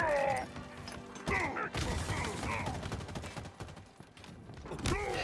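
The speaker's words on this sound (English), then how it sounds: "I'm under fire." Heavy gunfire in the Halo Infinite video game, with rapid bursts and crashing impacts filling the whole stretch, loud and close, amid dense battle noise.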